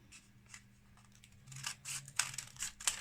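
Scissors snip through a piece of paper for a pine tree craft: a series of short, close crisp cuts that grow quicker and louder toward the end, with no talking.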